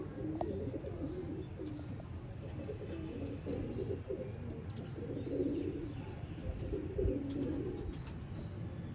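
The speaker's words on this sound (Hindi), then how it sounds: "दोस्तों इनसे कम ही अच्छे गोल्डन कबूतर मैंने देखे होंगे" Golden pigeons coo in low, soft, repeated murmurs over a steady background rumble, with a few faint chirps scattered through.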